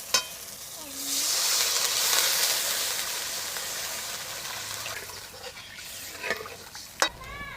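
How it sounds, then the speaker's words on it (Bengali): Water poured into spice masala frying in a pan in a village kitchen, a loud hissing sizzle that swells then slowly settles, with stirring scrapes and a few sharp clinks near the end. "এবার জল দিয়ে দেব।"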